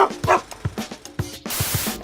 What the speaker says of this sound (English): Baxter! Bark twice if you were in Milwaukee